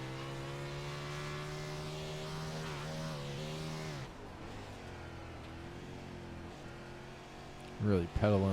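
A sprint car engine drones at high, steady revs on a dirt track, then dips and fades before a sharp loud burst near the end, with a commentator's voice running over it.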